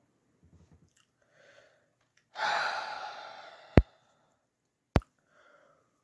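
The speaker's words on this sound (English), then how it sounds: "I just like chewing on it." Cartoon chewing on an egg: a breathy, crunchy burst of about a second and a half, followed by two sharp clicks, with faint small mouth sounds before and after and no talk.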